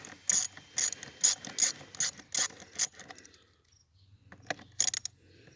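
A ratchet working an over-tightened bolt loose on an Arctic Cat 375 ATV, giving a run of about ten rhythmic clicking strokes, then a pause and a final short burst of clicks, close and clear with no talking.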